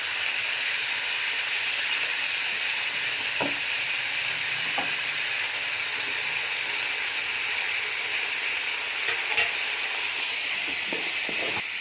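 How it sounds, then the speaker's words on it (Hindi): Chicken and tomatoes sizzle loudly and steadily in a frying pan, with a few soft clinks of a utensil rising briefly above the constant hiss. No one speaks. "ये चिकन, इसमें हम टमाटर ऐड कर देंगे।"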